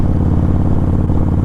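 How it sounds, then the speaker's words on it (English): Loud aftermarket motorcycle exhaust, a close, heavy idling burble with a fast, even pulsing thump, steady and with no voices. "I gotta laugh with loud motorcycle exhaust."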